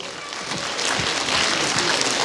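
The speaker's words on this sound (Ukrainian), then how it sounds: "зустрічайте її оплесками" Audience applause greeting a performer taking the stage at a family song concert in Truskavets, a steady, moderately loud clatter of clapping hands building slightly and sustained throughout.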